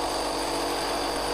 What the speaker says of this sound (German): Ich probiere jetzt einfach die anderen noch flacher zu bohren.